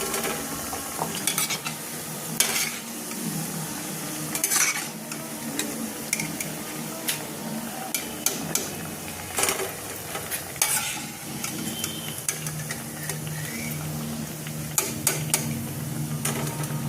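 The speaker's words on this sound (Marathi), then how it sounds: "आता सगळ्या वड्या या पद्धतीने तळून घेऊ" Colocasia leaf vadis (alu vadi) frying in hot oil, a constant crackling sizzle with frequent clinks and scrapes of a utensil against the pan, close and busy throughout, with no talk.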